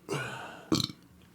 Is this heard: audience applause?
no